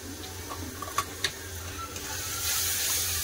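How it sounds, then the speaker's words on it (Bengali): Masala frying in a pan with a splash of water as it is stirred, a steady close sizzle that grows louder toward the end, with a few sharp ticks of the spoon against the pan. "এবার মশলাটা খুব ভালো করে কষে নেবো তেল ছাড়া পর্যন্ত"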